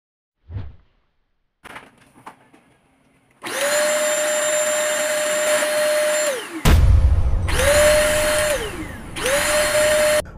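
A Simplus 19000pa vacuum cleaner starts with a loud steady whine and motor roar, cuts off, restarts, and switches off again, with a few clicks and handling knocks before it runs.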